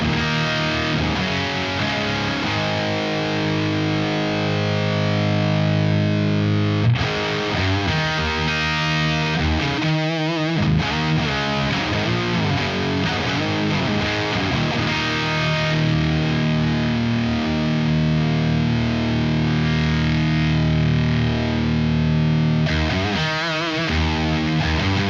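An electric guitar plays heavily distorted riffs and sustained chords through a Revival Drive Compact overdrive pedal with its tight switch off, into a modified Marshall JCM 800 amp, loud and continuous with brief pauses, no voices.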